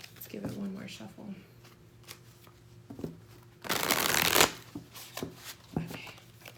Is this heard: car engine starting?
no